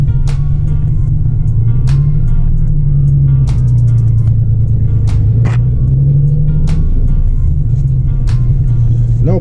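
A Nissan Z31 300ZX engine idles and rumbles steadily up close, with occasional sharp clicks and knocks over the low, continuous drone.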